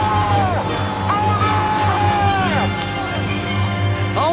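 Crowd cheering at a SailGP sailing race, loud sustained roar of spectators with rising whoops and yells, a few whistle-like squeals sliding through the noise.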